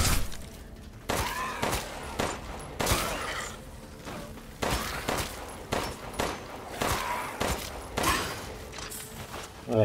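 Handgun fire in Resident Evil Village's Mercenaries mode: a loud, steady series of sharp shots about every second, each followed by short game effects, over a constant background of in-game ambience.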